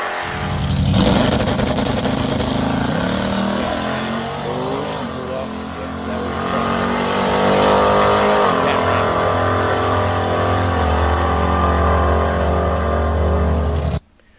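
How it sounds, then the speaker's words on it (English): A car launches down a drag strip on a test run, its engine roaring loud and close with a rising, straining pitch for several seconds before cutting off abruptly. "the car kind of sat there for a second and then took off"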